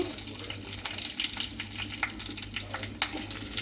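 Cumin, mustard seeds and dried red chillies fry in hot oil, giving a loud, crackling sizzle with sharp pops and spits scattered through it and a low steady hum underneath.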